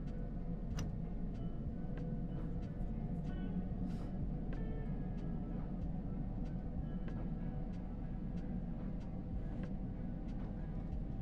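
An XC 170 train running in the video game Train Sim World 5, giving a continuous rolling rumble with scattered light clicks and ticks over the tracks, steady and close throughout.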